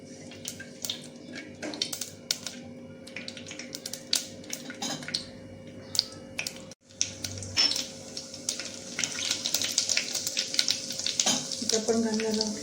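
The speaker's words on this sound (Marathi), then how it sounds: "मोहरी तडतडली की आपण घालणार आहोत जिरे." Mustard seeds dropped into hot oil crackle and pop in scattered sharp bursts, with a steadier sizzle building in the second half; quiet and close, with no talking heard.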